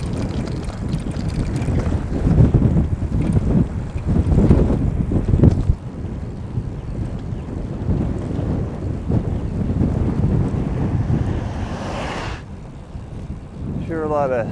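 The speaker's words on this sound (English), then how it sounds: "the wind's really swirling in here" Swirling wind buffets the microphone while riding a bicycle on a road, a loud, uneven rushing roar that surges and eases throughout, with a voice talking over it at times.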